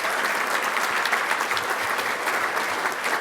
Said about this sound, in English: let's give his mother a round of applause